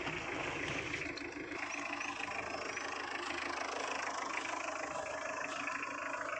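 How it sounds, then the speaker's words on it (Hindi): A car engine idles steadily as a driving lesson begins, a continuous low hum with faint rattle and broadband background noise, unbroken for the whole stretch and without talk. "अभी इंजन ऑन है कार का"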